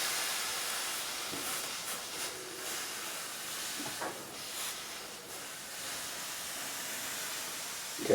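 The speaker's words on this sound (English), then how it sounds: "And we're going to try and steam this off in one go." Steady steam hiss from a steamer loosening glue on the neck of a Warwick Streamer LX bass during a truss rod replacement, broadband and continuous throughout with slight swells, no voices.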